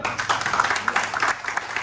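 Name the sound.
audience applause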